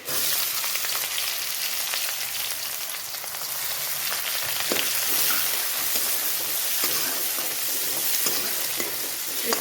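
Onions fry in a hot pan of egg bhurji base with garlic and ginger, a steady, dense sizzle that holds for the whole stretch, close and even with faint crackles and no talk.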